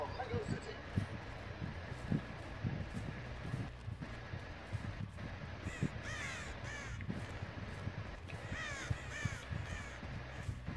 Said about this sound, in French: il y a le corbeau, il va se reposer